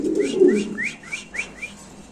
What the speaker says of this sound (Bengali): আমরা একটু নরের ডাকটা দেখাচ্ছি